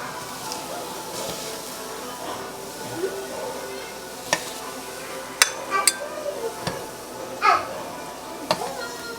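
Shrimp bought from Publix hit a hot pan and sizzle in a steady crackling hiss, with sharp clinks and scrapes of cookware throughout and a person speaking faintly in the background.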